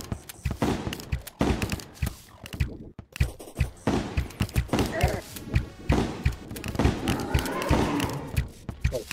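Shotgun blasts in the game Terraria during a boss fight: repeated sharp gunfire thumps at irregular intervals, mixed with other game effects while players talk.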